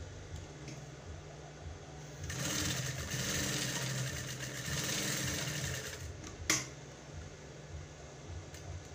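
A sewing machine runs steadily for about four seconds while stitching boning into a corset, followed by a sharp clunk and then a quiet pause.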